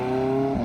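Car pulling away from the Port Solent car meet, a steady engine drone with strong harmonic tones held for under a second, fairly close and loud, shifting slightly near the end with a brief tire scrub.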